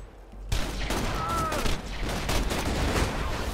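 Rapid gunfire in the video game Borderlands 2, a dense fusillade of loud shots and booms that begins abruptly and continues throughout, with a brief whizzing tone in the middle.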